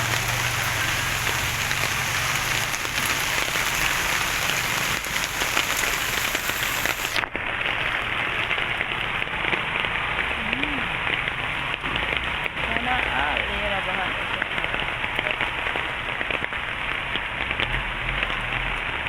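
Steady rain pours down in a dense, continuous hiss during street flooding, with a few faint voices murmuring beneath it.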